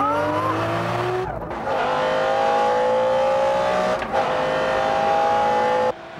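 McLaren F1 GTR race car accelerating hard from a standing start during a car test, engine loud and close as it climbs through several gear changes, with tyres squealing at launch.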